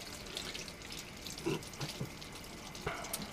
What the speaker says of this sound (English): Take your sink, turn the water on, let it run until it gets as hot as it can get.